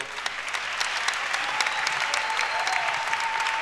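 Church congregation giving sustained applause, a steady dense wash of many hands clapping with a few shouts rising over it.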